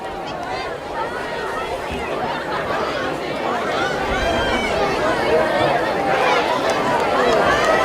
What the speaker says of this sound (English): Great crowd tonight here in Williamstown